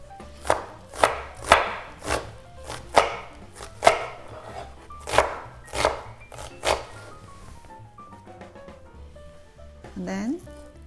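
An onion is chopped on a wooden board with about a dozen sharp, regular knife thunks, then the cutting stops and a voice speaks briefly near the end.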